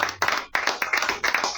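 An audience at a book-talk event in a bookstore claps in a burst of applause, dense and lively, pausing briefly and resuming, with no talk over it.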